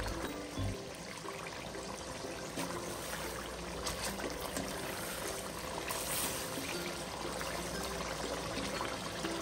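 Water poured from a glass into a pan of fried masala for kofta curry, a steady soft pouring and trickling that continues evenly throughout, close and fairly quiet.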